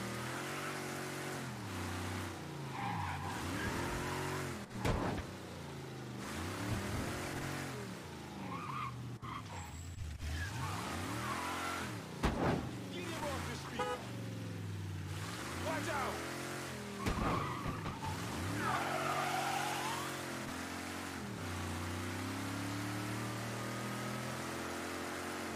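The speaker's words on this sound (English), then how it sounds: "Car sounds are kind of questionable." Car engine revving and repeated tire skids in the video game Mafia III: Definitive Edition, with rising and falling engine pitch, several sharp squeals and impacts, and someone talking over the driving.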